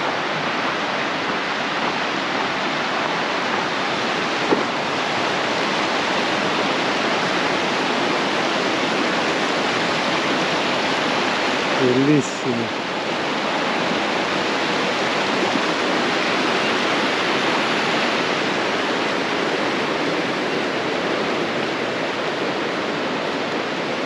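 Steady, loud rushing of a river in Torres del Paine fills the whole stretch, a constant broad roar; a voice speaks a single short word briefly partway through.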